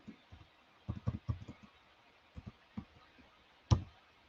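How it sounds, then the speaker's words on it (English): Keystrokes on a computer keyboard tap in quick, uneven clusters, soft and close in a quiet room, with one louder click near the end. "I'm typing it in now, Rose, so you can see it."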